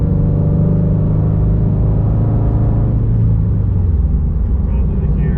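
A Toyota GR86 fitted with a new over pipe and front pipe pulls hard through the gears, its loud, deep exhaust drone rising steadily with a brief dip at a shift, heard from inside the cabin with the windows up.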